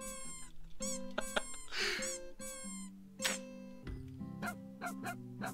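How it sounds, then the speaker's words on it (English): Dogs bark and whine in short pitched yelps arranged to carry the melody of a song, sounding like cats in places, loud and close over a steady backing beat. "It's the same song, but with dogs."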